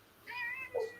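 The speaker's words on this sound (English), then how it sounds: "Oh, whose cat's that?" Domestic cat meowing indoors, a short rising meow followed by a brief second chirp, fairly close and clear against a quiet room.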